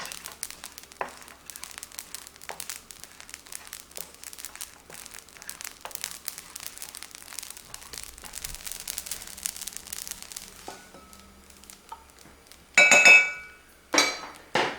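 Cumin seeds dry-roasting in a pan while being stirred, heard as a close, constant crackle and rustle of small seeds moving against the metal, ending with a few louder clinks and scrapes.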